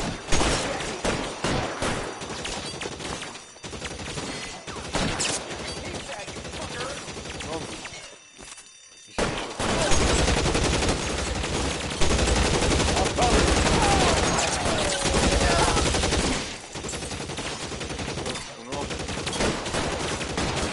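Sustained gunfire bursts loudly in a shootout in the video game L.A. Noire, with rapid overlapping shots and brief lulls.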